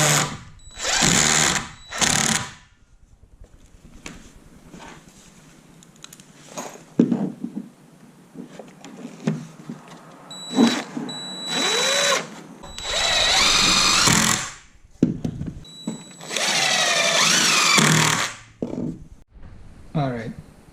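A power drill drives 3-inch number 10 construction screws into wood studs while framing an interior wall in a converted school bus. It comes in several loud whirring bursts of a second or two each, with gaps between them and talk in the background.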